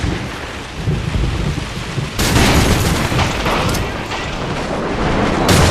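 Steady, heavy rain pours without pause on the Downpour map in Call of Duty 4, with deep rolling thunder booming underneath and the downpour swelling louder partway through.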